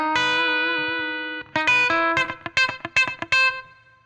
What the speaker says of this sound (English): Okay, just a good chicken picking.